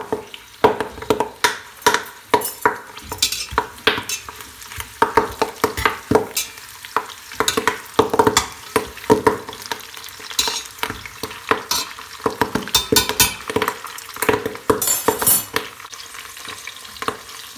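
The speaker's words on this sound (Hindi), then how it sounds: "इनको अच्छे से तेल में फ्राई करना होता है।" Kohlrabi leaves fry in hot oil for a Kashmiri kadam ka saag, giving a steady, loud sizzle with frequent crackling bursts and stirring scrapes throughout, with no talk.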